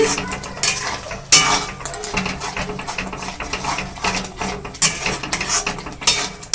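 Pasta being stirred with Kashmiri chili powder, salt and spices, probably in a metal pan: a steady run of close, loud clinking and scraping with sharp knocks every second or so.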